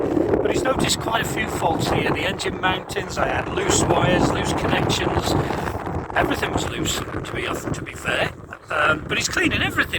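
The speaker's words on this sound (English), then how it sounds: "Sorry about the wind noise if you can hear it." Strong wind buffets the microphone on an embankment during an engine service, heavy low rumbling gusts running continuously beneath someone talking close by.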